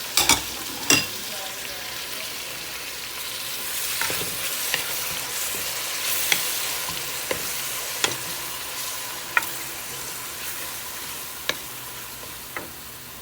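Tomatoes, garlic, dried coriander and salt fry in a pan for a capsicum and ground chicken curry, a steady sizzle running throughout, punctuated by sharp clicks of a spoon stirring against the pan.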